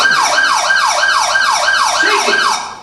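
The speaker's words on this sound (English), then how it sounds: "do you hear something that sort of sounds like a siren coming up behind us?" A siren wails in fast repeating sweeps, loud and close, as if coming up from behind, holding steady before fading slightly at the end; no voices.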